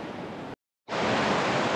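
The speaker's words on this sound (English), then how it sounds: "Oh wow, yet more beautiful Welsh waterfalls" Steady rushing roar of a Welsh waterfall beside a river, broadband and continuous, close and fairly loud, with a brief cut to silence partway through before the roar resumes.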